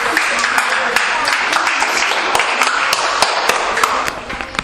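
A crowd at a youth football trophy ceremony claps for a young player, steady close applause with sharp individual claps standing out, then tapering off at the end.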